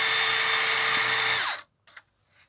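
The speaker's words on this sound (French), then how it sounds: "Donc, on va percer ici." A power drill bores into wood while building a garden vegetable planter, whining loudly and steadily for about a second and a half before cutting off abruptly, followed by a few faint handling knocks.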